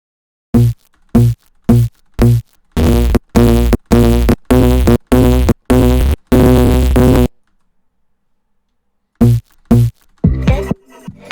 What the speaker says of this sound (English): It's big farty sound. Super fart.